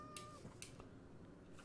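A cat in Minecraft gives a faint, brief meow, quiet and distant with soft game ambience around it.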